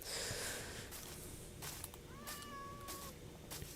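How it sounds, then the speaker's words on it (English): A cat meows in a Minecraft game, a single rising-falling call in the middle of the clip, quiet against a background of ambient game hiss and scattered clicks. "I think I heard a cat."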